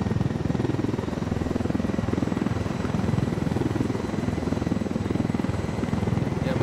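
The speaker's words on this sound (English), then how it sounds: "my chopper is going down again" A helicopter in the video game Ghost Recon Wildlands flies with a steady, loud rotor thump, its rapid rhythmic chopping continuous and close throughout.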